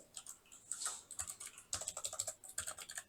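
Computer keyboard typed on in quick, irregular bursts of crisp key clicks during a Python programming lesson, close and fairly quiet, with short pauses between runs of keystrokes.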